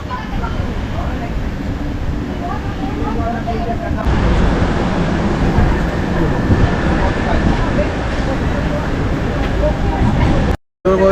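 Kanchankanya Express pulling into Dakshineswar station: a steady, loud rumble of the moving train carries throughout, with a brief dropout near the end and general background bustle.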